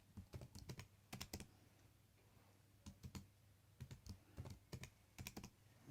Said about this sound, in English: So we're going to type in struct